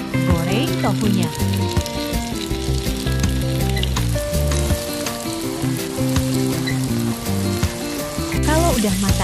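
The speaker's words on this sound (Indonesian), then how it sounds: "Kemudian, goreng tofunya." Oil sizzles and crackles continuously as flour-coated tofu fries in a pan, loud and close, with some faint background sounds.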